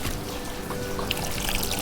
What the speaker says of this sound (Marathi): भाजी तर बघा मी आता मस्त धुवून घेते